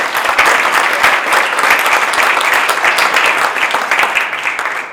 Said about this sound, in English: Can we have a round of applause for that great work?